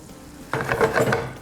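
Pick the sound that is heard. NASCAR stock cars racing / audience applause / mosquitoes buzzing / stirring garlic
stirring garlic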